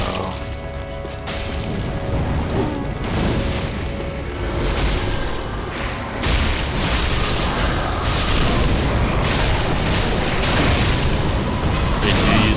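Fireball explosions erupt during the Deacons of the Deep boss fight in Dark Souls 3, a dense, loud wall of booming blasts and rumbling crashes that piles up continuously and barely lets up from start to finish.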